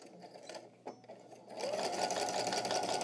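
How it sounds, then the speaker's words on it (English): Sewing machine stitching fabric at an inner corner: a few short starts and stops at first, then a steady fast whirring run of stitches, close and clear with no talking. "So start sewing. All right, back stitch."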